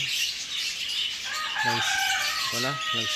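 Farm chickens and a rooster: several short crows ring out in the second half, mid-distance and clear, over a constant bed of chirping birds and faint clucking.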